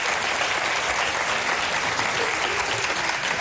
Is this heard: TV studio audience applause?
yes